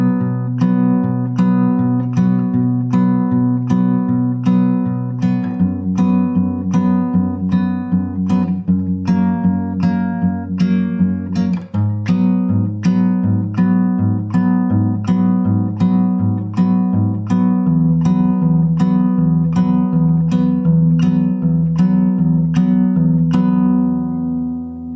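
Steady acoustic guitar riff, crisp plucked notes repeating in an even pulse over a low open-string bass, close and clear for about 25 seconds with no talking.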